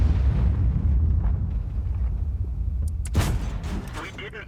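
Heavy tank gunfire in World of Tanks from a T-34-85M: a continuous low booming rumble of battle, with one sharp, loud cannon blast standing out near the end.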